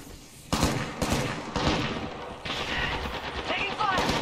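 Bursts of automatic gunfire from an Apex Legends firefight, loud and close, with dense rapid volleys starting around half a second in and carrying on through the clip amid constant game noise.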